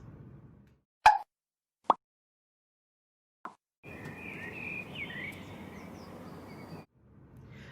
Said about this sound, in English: A string on Nelson's violin had snapped.